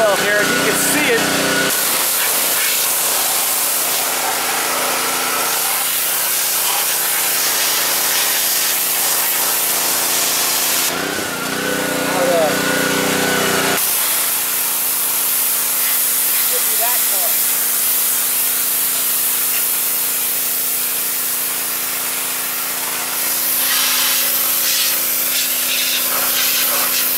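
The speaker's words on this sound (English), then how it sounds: "I've power washed a little bit of the wheel well here" A power washer sprays a car's wheel well with a loud, continuous hissing rush that cuts out briefly twice before resuming, the close spray shifting in tone as it hits the surface.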